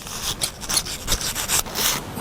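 A small brush scrubs inside a firearm suppressor tube, with rapid, rhythmic back-and-forth rasping strokes up close and no voices.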